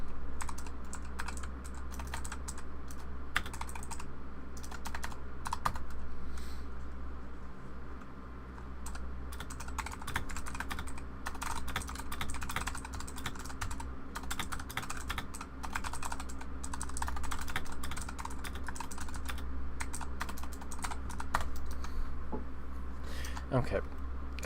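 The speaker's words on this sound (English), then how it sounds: "Just AFK for a bit while I type something." Someone types steadily on a computer keyboard, with rapid key clicks coming in irregular bursts and short pauses over a low background hum. The clicks are close and moderately loud.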